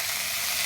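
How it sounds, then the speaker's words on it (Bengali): Pointed gourd (potol) frying in a pan, a steady, dense oily sizzle and hiss that stays even throughout the brief moment. "পটলটাকে ভালো করে প্রথমে ভেজে নেব।"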